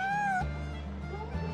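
A cat in the video game Genshin Impact gives a brief, high meow, followed by low background game tones and ambience.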